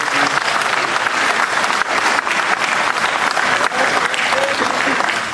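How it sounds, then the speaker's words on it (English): Loud, continuous applause from an audience fills the whole stretch, steady and dense, with no voices standing out. "Give Jesus a hand clap."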